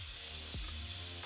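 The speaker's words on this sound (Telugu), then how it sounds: "పచ్చిమిరపకాయలు నాట్లు పెట్టి వేసి ఉల్లిపాయలు వేగుతున్నాయి" Onions and slit green chillies frying in a pan for mutton biryani give off a steady, close, bright sizzle with a faint low hum underneath throughout.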